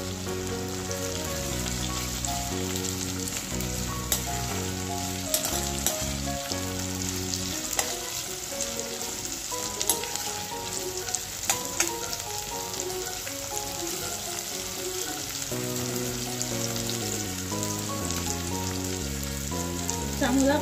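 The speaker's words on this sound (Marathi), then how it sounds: "मग आता यात आपण कांदा घालूया। कांदा चांगला सोनेरी होईपर्यंत परतून घ्यायचा आहे।" Chopped onion frying in a pan until golden, a continuous sizzle and crackle sounding under loud background music with no one speaking.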